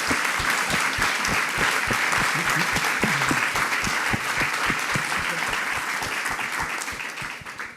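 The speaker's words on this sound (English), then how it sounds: "you will get an applause from all of us that you are here today" A congress audience at a resuscitation event applauds a guest with sustained, full clapping from a large hall crowd, steady throughout and tapering off a little toward the end.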